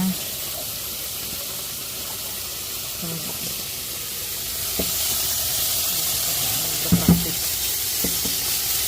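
Garlic frying in a pan for Filipino pork adobo, a steady soft sizzle with occasional spatula scrapes and stirring taps, moderately close.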